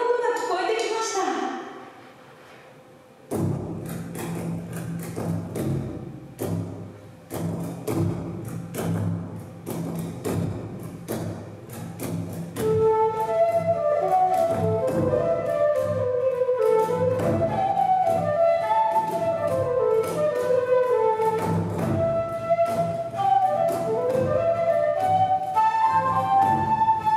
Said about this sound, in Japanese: まだつかないのかなと紬が思った頃、トンネルの向こうから笛と太鼓の音が聞こえてきました。